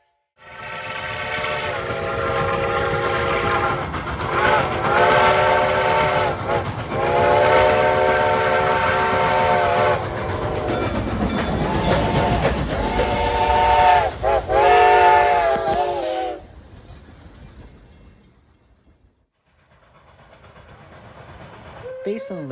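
Two steam locomotives, numbers 425 and 2102, run together as a doubleheader, their harmonic whistles blowing in long, loud repeated blasts over rumbling chuffing and rolling wheels, then fading away into quiet.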